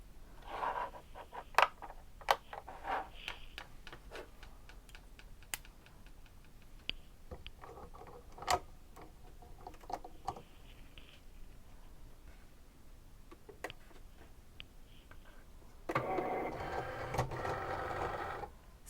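Cricut cutting machine with a foil transfer tip at work, soft mechanical whirring and scattered sharp ticks as the carriage moves, quiet and close, swelling into a denser burst of motor noise near the end.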